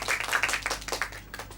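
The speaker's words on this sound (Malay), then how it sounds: "Tepukan pada semua." A classroom of students claps together in a brisk burst of applause, fairly close and dense, fading slightly toward the end.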